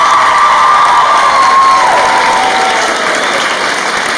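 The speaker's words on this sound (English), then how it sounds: "Big round of applause." Loud, sustained audience applause at an education award ceremony, a dense wash of clapping with a few cheers and whoops that keeps up steadily and tapers only slightly toward the end.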